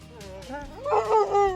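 Hunting puppies bark and whimper at a possum, a run of short yips rising into louder, tonal whining barks, close by, with no talk over them.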